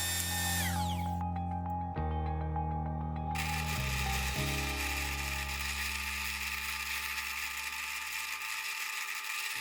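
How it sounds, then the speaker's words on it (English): A power drill runs steadily and close by, drilling holes in a DIY table saw tabletop, its motor pitch stepping down a few times early on before holding a continuous whine to the end. "I drill 2 holes and join them together"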